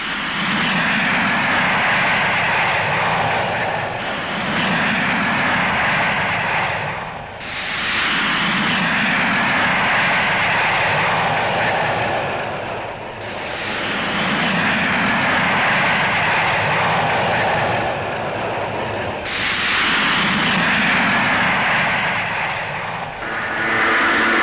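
Breguet Alizé carrier aircraft from the Foch fly over French Polynesia during nuclear test operations, a loud continuous propeller-engine drone that swells and dips as several passes go by, with no voices.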